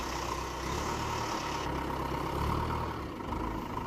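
A Heli forklift engine idles after an oil and filter change, a steady, smooth rumbling drone heard close up with no talk.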